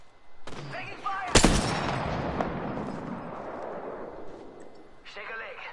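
Gunfire in the battle royale shooter Apex Legends: one sharp, loud shot, then a sustained rattle of firing and game noise lasting several seconds.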